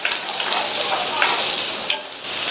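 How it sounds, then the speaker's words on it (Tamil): Onions sizzle and crackle steadily in hot oil, with occasional scraping stirs, close and continuous throughout. "அடுத்து அதே எண்ணெயிலேயே 2 மீடியம் சைஸ் பெரிய வெங்காயத்தை கட் பண்ணி சேர்த்து வதக்கிக்கலாம்"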